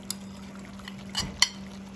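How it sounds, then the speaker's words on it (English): Fresh cut tomatoes go into a cooking pan with a few quick clinks and soft wet thuds against a faint steady hum, each sound brief and close. "I think now we are going to put some tomatoes in it. Fresh cut tomatoes"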